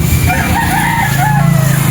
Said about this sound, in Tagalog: Damo, may manok